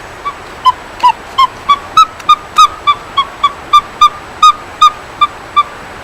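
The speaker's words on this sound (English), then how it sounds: "Each of those little marks tells me the western screech owl, that's the one I just played." A tape recording of a western screech owl plays a run of about fifteen short, evenly spaced whistled toots. They are clear and close, with no talk over them.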